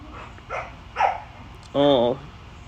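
Several dog barks nearby, a couple of short yelps followed by a longer, louder bark-howl, over a quiet background.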